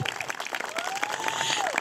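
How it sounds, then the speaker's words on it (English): Guests applaud the hosts at a political fundraiser held in a private home, a brief burst of close, lively clapping. "Can we give them a round of applause,"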